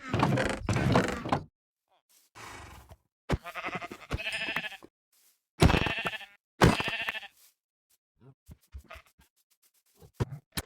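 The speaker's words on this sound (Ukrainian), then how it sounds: "Вівців, овців для вовни." Sheep bleating in the Minecraft Ice and Fire mod, a series of short video-game bleats scattered between gaps of silence, fairly close and clear, with no talk over them.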